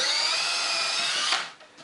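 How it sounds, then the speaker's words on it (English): Power drill boring almost through 3/4 inch plywood, a steady high whine of the motor that holds level and then winds down and stops near the end. "I'm not drilling all the way through. I'm almost going through the 3/4 plywood."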